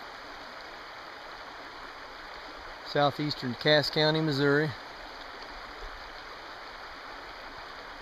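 South Grand River in southeastern Cass County, Missouri, flowing past a conservation-area bank as a steady, soft broadband wash throughout, with someone speaking briefly over it partway through.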